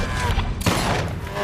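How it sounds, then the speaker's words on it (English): Gunshot in a Fast and Furious 6 movie scene, a single sharp blast cutting through the soundtrack midway, followed by a short rumbling tail amid other film sound. "This is one of the only gunshots in this entire franchise to be super accurate."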